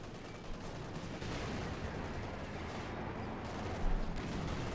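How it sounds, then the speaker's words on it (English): Dense battlefield din from Company of Heroes 2, with bazookas firing on a Panzer IV amid continuous gunfire and explosions, a steady wash of noise with a few heavier thumps and no audible talk. "Bazooka firing all that on the Panzer IV."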